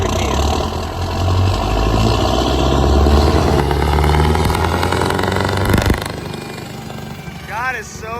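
A car engine fitted with a massive turbo upgrade and a long exhaust pipe runs loud and close, a thick droning roar that swells and then drops away near the end, with voices briefly over it.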